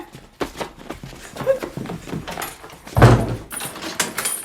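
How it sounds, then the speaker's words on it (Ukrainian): In a film scene, a door slams with a loud, heavy thump partway through, amid scattered knocks, rustling and movement, with little talk. "двері!"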